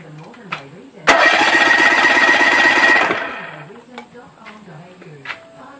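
A Mariner 25 outboard engine cranks over during a compression test, a loud rapid chugging lasting about two seconds, set between quieter stretches of faint background noise.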